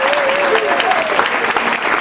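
An audience at a community foundation event claps steadily in a short, dense round of applause, with a voice speaking over the start.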